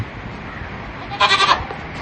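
A mother goat with her two roughly month-old kids on a farm; a single clear bleat rises briefly after a quiet stretch of low background noise, with no talking.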